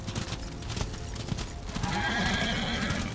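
Horses clip-clop in the Darksiders video game, a steady close clatter of hooves over busy game ambience, with a neigh-like cry rising toward the end.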